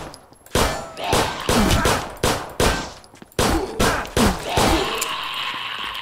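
Pistol shots in the zombie game Zompiercer: about eight sharp, loud reports in an uneven series, fired one after another at close range with no talk.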